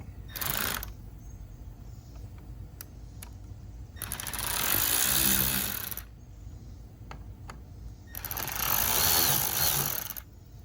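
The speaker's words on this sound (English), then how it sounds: "So I'm gonna put the outside 4 in and leave them kind of loose until I get all the screws in." Screws being driven into a radio case with a power driver, heard as three separate whirring bursts, each lasting one to two seconds, close and fairly loud, with faint ticks and handling noises between them.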